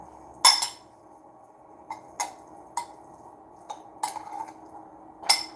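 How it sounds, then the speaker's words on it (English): A utensil scrapes and taps against a pot while food is stirred, giving about eight sharp, separate clinks spaced unevenly over a quiet background, close and clear, with no talking. "Let me stir this up."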